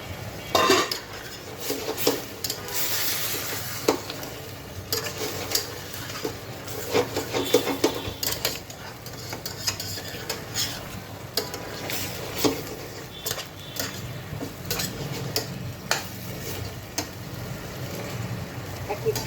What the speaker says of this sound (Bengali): ঢাকনা ছাড়াই এভাবে কষিয়ে নিব